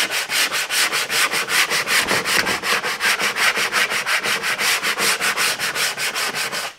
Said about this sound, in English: just take a little bit of sandpaper.